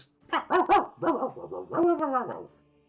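A dog barks in the background of a quiet outdoor scene, a quick series of clear, fairly close barks and yips, several in a row, heard alone with no talking.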